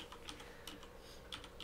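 Someone types a search on a computer keyboard, with quick, light key clicks in a short uneven burst, close but quiet and without voices.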